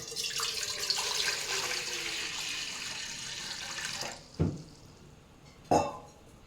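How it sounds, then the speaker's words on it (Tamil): Water pours steadily from a tap into a metal idli pot on a gas stove for several seconds, then stops, followed by two sharp clanks of the vessel. "தண்ணி ஊற்றுறேன்."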